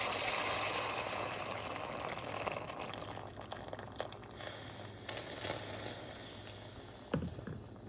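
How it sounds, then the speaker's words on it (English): Water is poured gently into a pot over salmon fish cakes with carrots, beets and potatoes, a steady splashing trickle that softens and breaks up, ending with a light clunk. "I'm now gonna pour in the water. Try to pour it very lightly so it doesn't break your cutlets apart."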